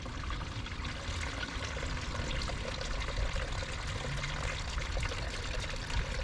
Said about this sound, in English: Now just refill the coolant